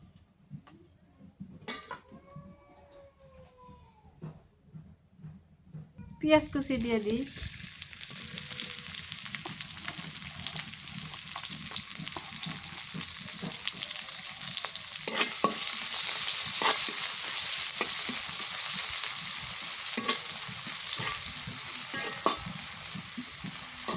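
Leafy greens from a chemical-free village field fry in oil, a loud steady sizzle that bursts in partway through after quieter clinks and scrapes, continuing with occasional stirring taps.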